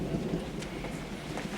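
A thunderstorm rumbles low and steady beneath constant heavy rain, no voices, with a dense wash of rainfall filling the whole moment.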